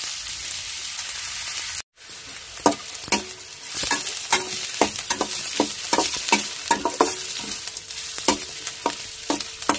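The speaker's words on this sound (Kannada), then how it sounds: "ಈಗ ಈರುಳ್ಳಿ ಎಲ್ಲ ಕೆಂಪು ಚೆನ್ನಾಗಿ ಮಾಡಲಿ." Onions fry in a hot pan for a fenugreek-leaf palya, a steady close sizzle broken by frequent sharp scrapes and clinks of a spatula stirring, with a brief cutout near the start and no talk.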